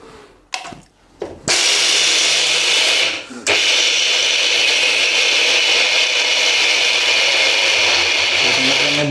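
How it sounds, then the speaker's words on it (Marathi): Mixer grinder grinding peanuts, a few short pulsed bursts before the motor runs at a loud steady whirring roar, briefly stopping once and starting again. "आणि हे जे आहेत एकदम असे बारीक करून घेऊया आपण शेंगदाणे."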